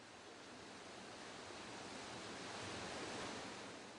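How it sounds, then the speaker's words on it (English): Turbid meltwater streams rush down mountain slopes in spring flood in Siberia, a dense, steady broadband roar of water with no break, uniformly loud and close. "Streams of turbid water rush down the slopes, washing away the winter mire."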